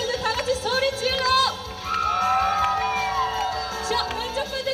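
Korean outdoor summer festival concert audience yelling and cheering loudly on cue from the stage, a dense mass of voices with whoops, while a voice on a microphone speaks over it.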